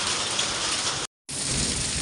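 Heavy rain and hail pounding down on a hillside village in a storm, a loud dense roar that cuts out for a moment and then returns.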